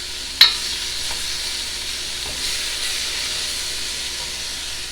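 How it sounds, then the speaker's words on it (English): Minced garlic fries in a pot for an Irish Guinness beef stew, giving a steady, even sizzle and hiss from start to finish, with a single sharp tap near the beginning and faint stirring scrapes. "Now I'm going to add some minced"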